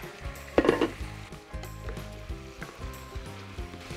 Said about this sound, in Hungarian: Kicsit nyugodtan pirulhat ebben a zsiradékban.